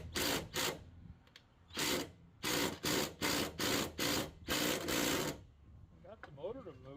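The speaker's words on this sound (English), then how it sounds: "So I'm hoping this little Ryobi impact is strong enough." A small Ryobi impact driver works on a lawn mower blade, firing a series of loud, rapid hammering bursts in quick succession with brief pauses between them, followed by quieter handling noise at the end.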